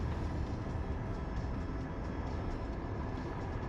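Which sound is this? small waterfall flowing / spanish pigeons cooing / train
train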